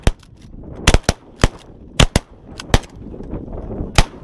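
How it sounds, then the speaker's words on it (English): Shotgun blasts from goose hunting ring out in a rapid volley of about ten sharp, loud bangs, clustered in quick pairs and singles, with faint outdoor background between shots. "Shoot them, shoot them, shoot them."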